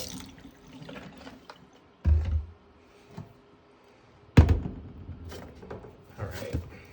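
Water splashes and pours in a sink while sneakers are being cleaned, with two loud bursts of running water among quieter scrubbing and dripping sounds close by.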